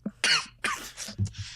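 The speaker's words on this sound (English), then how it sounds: "Cough." A person coughs several times in quick succession, close and fairly loud, with a brief throat-clearing at the end and no talk over it.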